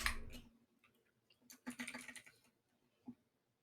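Quick bursts of keystrokes on a computer keyboard, close and quiet, tapping in two short runs with a pause between and a single stray click at the end, no talking.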